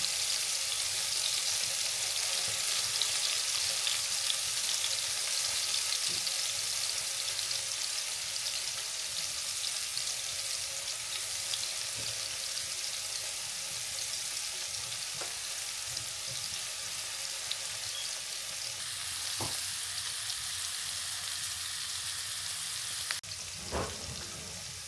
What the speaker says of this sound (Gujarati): આપણે ભજીયાને જે પનીર થોડુંક ફ્રાય કરી નાખીએ.